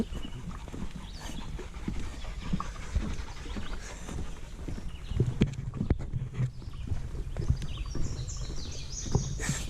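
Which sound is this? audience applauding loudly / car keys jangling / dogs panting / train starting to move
dogs panting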